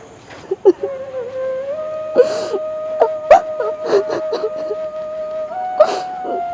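A girl cries and whimpers in a Hindi crime drama, with broken sobbing breaths and wavering moans rising and falling over several seconds, close and fairly loud, with no talking over it.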